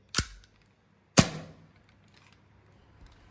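Two sharp, close shots from a Canik TP9 Elite S airsoft pistol as it fires its last rounds, spaced about a second apart and followed by near silence.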